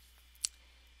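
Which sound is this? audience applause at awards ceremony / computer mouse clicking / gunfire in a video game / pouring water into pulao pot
computer mouse clicking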